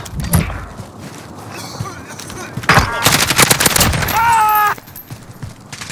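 Gunfire in the video game Call of Duty: Modern Warfare: loud bursts of automatic fire and single shots crackle over several seconds, mixed with game effects, a brief tonal alert and a shout.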